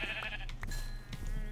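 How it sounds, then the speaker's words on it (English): Sheep in the Forgecraft Minecraft world give short, faint bleats against a low steady background hum, coming in a couple of quick bursts. "I'm going to start killing sheep."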